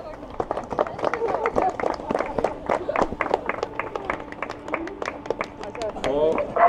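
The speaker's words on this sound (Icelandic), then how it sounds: "Gef henni gott klapp." Audience clapping at a mouse weigh-in competition, many hands slapping quickly and unevenly at moderate distance, with a presenter speaking over the applause.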